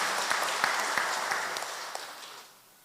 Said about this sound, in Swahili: Tuwapigie makofi wote